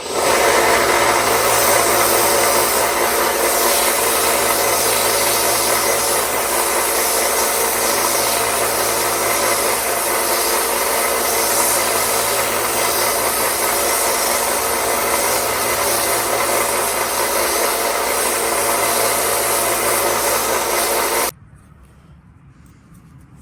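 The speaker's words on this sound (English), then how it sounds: "holding that up against that sanding belt and rotating it just like this" A belt sander whirs loudly and continuously while shaping a point on a replacement blade part for a Case XX Trapper pocketknife, then cuts off abruptly near the end.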